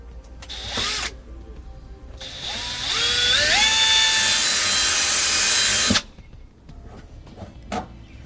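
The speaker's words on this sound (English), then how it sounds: "I'm going to drill a small hole in it." A power drill bores a small hole through a rubber grommet on a 2019 Subaru, a short buzz, a pause, then a long high whine that climbs in pitch before cutting off abruptly, followed by a few small clicks.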